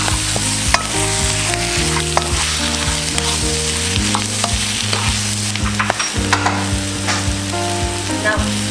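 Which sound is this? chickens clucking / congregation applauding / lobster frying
lobster frying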